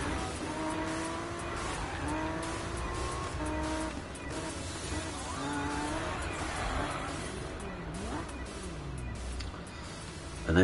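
A race car drifts in a PS4 racing video game, its engine droning steadily as tire squeal rises and falls throughout, loud and continuous with faint speech underneath.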